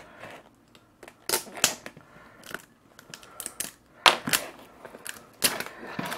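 Cellophane shrink wrap being peeled and torn off a boxed pair of Fatshark HDO FPV goggles, giving irregular crisp crackles and sharp snapping bursts at close range, alone with no talking.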